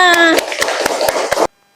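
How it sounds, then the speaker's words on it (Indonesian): A group of schoolchildren in a classroom claps in a quick burst of rhythmic applause, several loud claps before cutting abruptly to silence, with a voice briefly at the start. "Tepuk tangannya"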